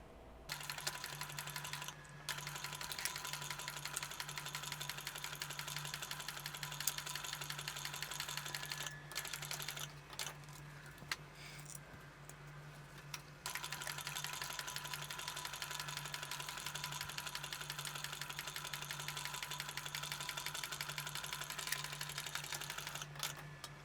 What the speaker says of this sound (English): And then we're going to stitch these together.